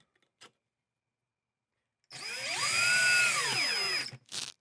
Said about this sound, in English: take your screwdriver, in this case a power tool